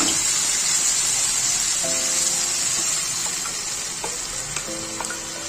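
Chana dal and potatoes fry in a pan with a steady, close, hissing sizzle, while light scraping and clinking of stirring come through intermittently.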